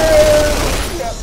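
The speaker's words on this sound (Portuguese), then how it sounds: "Ele só atirando em mim" Rapid gunfire from a first-person shooter video game, played in night-vision mode, comes as a dense loud burst of shots that fades over about a second, with talk around it.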